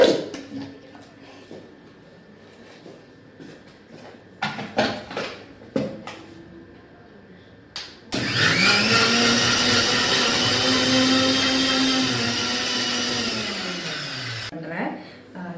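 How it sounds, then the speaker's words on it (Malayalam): A mixer grinder whirs loudly, grinding rice with water for a vendakka puli kulambu. The motor runs steadily for about six seconds and then cuts off, after some quieter clatter and handling sounds. "വെള്ളം ഒഴിച്ച് നന്നായിട്ടൊന്ന് അടിക്കുക മിക്സിയിലിട്ട്"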